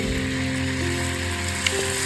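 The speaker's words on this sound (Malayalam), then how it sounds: "ഇനി ഇതിലേക്ക് മാറ്റിവെച്ച മാങ്ങയുടെ ഉപ്പുവെള്ളമാണ് ഒഴിച്ചു കൊടുക്കുന്നത്." Hot oil seasoned with spices, mustard and fenugreek hisses and sizzles steadily as mango brine for a homemade pickle is poured in, a dense close crackle with a small clink near the end.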